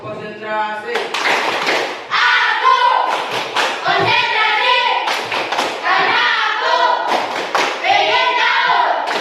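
A class performs a concentration clap, bursts of loud unison hand claps in repeated rhythmic groups, alternating with a teacher's voice calling out between them.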